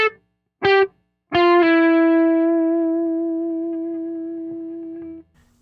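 Electric guitar played dry through a Dumble amp at edge-of-breakup, two short clipped notes then a chord ringing out with long sustain and a slow fade, slightly gritty, alone and close.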